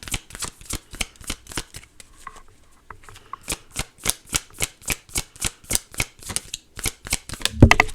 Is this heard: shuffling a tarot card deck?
yes